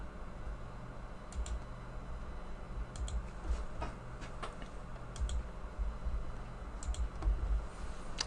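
A computer mouse clicks several times while someone navigates to a course journal page, each sharp click short and near, separated by pauses over steady low background hiss.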